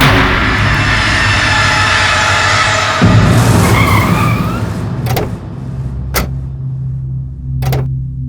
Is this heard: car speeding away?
yes